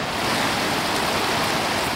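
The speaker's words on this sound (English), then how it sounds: "So this is the lovely Lewis Falls, which connects to the Lewis River" Lewis Falls waterfall in Yellowstone roaring in a steady, dense rush of white noise, loud and unbroken, with no voices.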